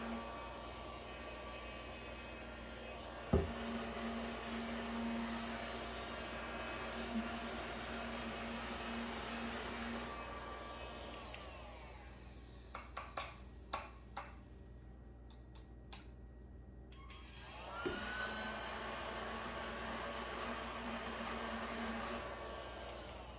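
Ryobi USB lithium desktop vacuum running with a steady whining motor hum, briefly switched off mid-way with a few faint clicks, then started again and running steadily to the end.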